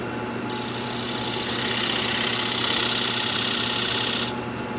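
An alder bowl spins on a wood lathe while a 1/4 inch spindle gouge cuts grooves into it, giving a steady, loud scraping hiss that starts abruptly, holds evenly over a low motor hum for about four seconds, then stops.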